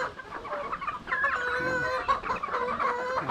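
Gray gamefowl stags, young Kelso roosters, clucking and chattering as a flock, with overlapping short calls at close range and no talk.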